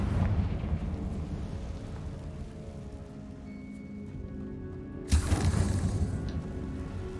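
A Confringo explosion spell in Hogwarts Legacy lands as a sudden loud burst partway through, rising out of a rumbling game ambience and trailing off into crackling debris.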